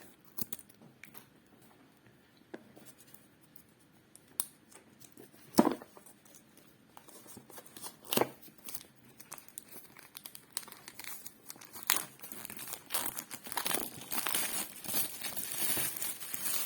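Cardboard and plastic packaging of a Yu-Gi-Oh GX Speed Duel box being torn open and crinkled, with scattered crackles and rips that build into denser, louder crinkling toward the end.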